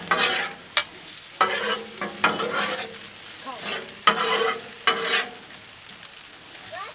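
Shrimp sizzle on a Blackstone griddle while a spatula stirs them, sharp scraping strokes landing in uneven bursts over a steady frying hiss, close and fairly loud.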